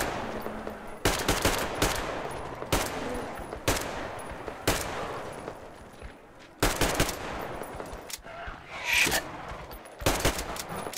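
Gunfire from the video game Metro Exodus on Xbox One X: loud, sharp bursts and single shots at irregular intervals, separated by quieter rasping mechanical sounds.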